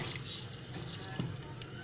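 Water is poured into a cooking pot of drumstick pods to make a thin gravy, a steady soft splashing pour up close that lasts throughout without talking.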